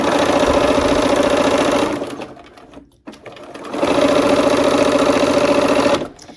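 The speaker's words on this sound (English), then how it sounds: "We're gonna go ahead and sew the last seam on the checkerboard" A sewing machine stitches the last seam of a checkerboard quilt block in a loud, close, rapid mechanical whir, pausing for about two seconds before running again and then stopping.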